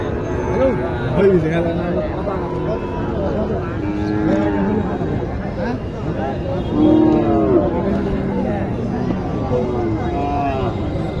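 Sahiwal cattle low and moo repeatedly at a crowded livestock market, loud nearby calls rising over a busy background of people talking.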